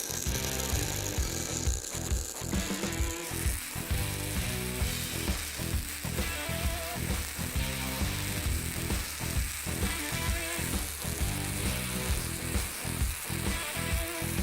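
MAG welding pass on heavy plate laid with a Boxer Soldas Hardmig 325 Flex welder, a loud steady crackling sizzle with rapid sputtering pops running continuously throughout, with no talk.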